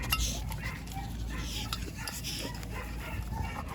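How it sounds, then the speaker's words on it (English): Dogo Argentino puppies whimper and yip in the background, a steady muffled stream of small puppy noises with some low rumble and faint voices mixed in throughout. "Don't mind the puppies in the background."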